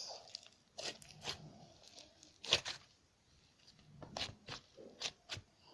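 Crunchy slime poked by fingers, giving scattered crackling, crinkly bursts in uneven clusters with quiet gaps between, close and fairly soft.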